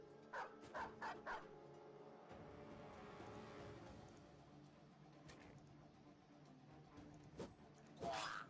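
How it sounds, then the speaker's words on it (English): A dog in the video game Battle Brothers gives a quick burst of yelps at the start as it goes down, followed by a dull battle ambience and a sharp hit near the end. "Dog goes down."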